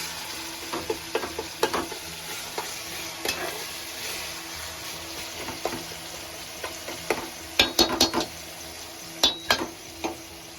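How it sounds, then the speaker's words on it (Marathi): Onions, tomato, salt and garlic fry in oil with a constant close sizzle, punctuated by irregular spoon scrapes and metallic clinks against the pan that grow busier toward the end. "पहिले तेलात कांदे टाकलं नंतर तांबाटी नंतर आता मीठ आणि लसूण"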